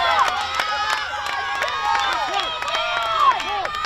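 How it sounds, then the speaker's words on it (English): Baseball crowd at a high school game between Methuen and Bridgewater-Raynham, cheering and shouting steadily through a full-count, two-out pitch, with children's voices and whistles rising and falling over continuous distant crowd noise. "And the crowd getting into it now."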